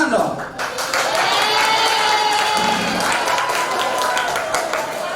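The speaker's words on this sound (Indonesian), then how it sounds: "Tepuk tangan dong." Vocational high school students at an anti-drug awareness assembly in Jakarta clap and cheer, a loud, busy crowd burst with shouts and whistles layered over steady clapping throughout.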